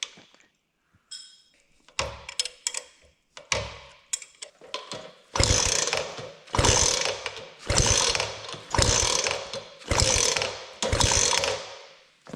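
The kickstart mechanism of a BSA Bantam D1 motorcycle is worked repeatedly, giving a run of close, loud mechanical ratcheting strokes. The first few are scattered and irregular, then settle into an even rhythm with short pauses between them.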